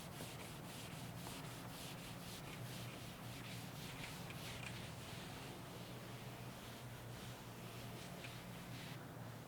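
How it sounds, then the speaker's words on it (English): Duster rubbing across a classroom board, a steady faint scraping wipe with soft repeated strokes, no talking. "what I need is a duster so that I can prepare board for you"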